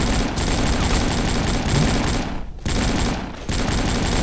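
Dense, loud automatic gunfire in the online shooter Avatar Star, sustained bursts broken by two brief pauses, with no talking.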